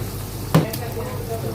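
Finely chopped onions fry in ghee in a pot for lemon rice. There is a short, steady sizzle with one sharp clank of a utensil partway through.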